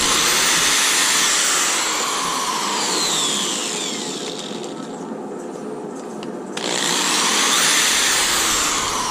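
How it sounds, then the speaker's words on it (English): An electric drill bores two holes into wood for a bank-fishing rod holder, a loud high whine that sags and eases in the middle as it cuts, then surges back up, with no talking. "Next thing I'm gonna do is I'm gonna go ahead and get these ready and go ahead and drill 2 holes"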